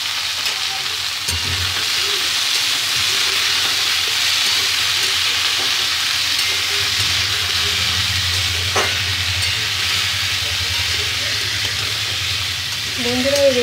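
Potatoes and small-cut papaya fry with browned onions in a pan, giving a steady close sizzle throughout, with a voice talking faintly at times.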